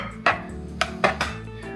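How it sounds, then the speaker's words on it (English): Knife chopping broccoli into small florets on a cutting board in a home kitchen: four separate sharp chops, fairly close, over a steady low background hum. "She chopping broccoli."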